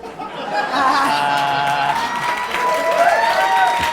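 A studio audience claps in a brisk burst while chuckles and scattered laughter rise from the crowd, with chatter and voices mixed in near the front.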